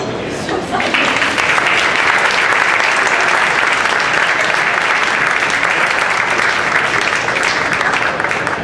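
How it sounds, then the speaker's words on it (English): Applause from the audience at an urban professional award ceremony in Medellin, Colombia, a loud, full, continuous roar of many hands clapping that starts abruptly and holds steady for the whole stretch. "A round of applause."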